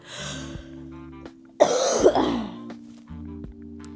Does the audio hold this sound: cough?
yes